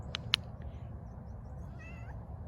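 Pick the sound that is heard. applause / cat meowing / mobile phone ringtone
cat meowing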